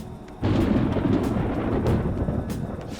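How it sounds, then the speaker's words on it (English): Deep thunder rumbling in the video game Persona 5 Royal, a quiet lull giving way to a sudden loud, sustained roll that keeps rolling for several seconds without any talk. "It sounds like it's going to rain."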